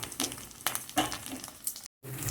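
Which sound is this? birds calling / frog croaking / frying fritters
frying fritters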